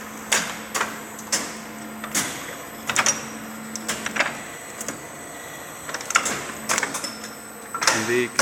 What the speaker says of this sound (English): we've basically commanded now for tool 2 to come into a spindle, so it's indexing